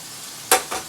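A chicken and vegetable stir fry sizzles as marinade is added to the hot pan. After quiet background hiss there are three short, bright bursts of frying.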